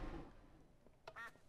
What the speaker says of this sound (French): Tiens, on va se one shot le canard, déjà.